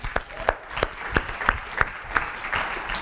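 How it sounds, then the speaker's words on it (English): An audience at a business session gives a round of applause, the clapping fairly close and loud with distinct individual hand claps popping out of a short, moderately sized burst. "All right, give them a round of applause."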